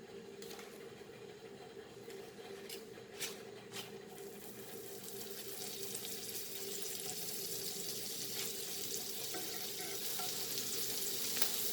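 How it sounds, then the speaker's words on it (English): Paneer cubes fry in a pan for a cabbage keto burger, giving a soft, steady hiss that thickens and grows slightly louder over time, with a few faint clinks near the start. "we'll fry paneer."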